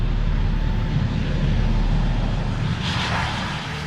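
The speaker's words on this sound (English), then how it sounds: "Watching the B-2 take off at full speed is an extraordinary event." A B-2 Spirit stealth bomber's jet engines roar steadily at full power during a full-speed emergency takeoff, a loud, continuous rumble that eases slightly near the end.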